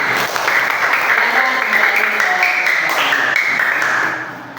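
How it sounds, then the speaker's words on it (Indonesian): Students in a classroom clap for a group presentation during a lesson, a loud, continuous burst of applause with some voices mixed in, fading toward the end. "Tepuk tangan."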